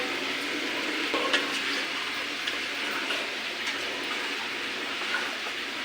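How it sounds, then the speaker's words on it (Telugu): Gongura leaves are stirred in a cooking pot at a temple kitchen over a low, steady frying hiss. Occasional light scrapes and knocks come through, and no one speaks. "గోంగూర మొత్తం కలిపి పెట్టు"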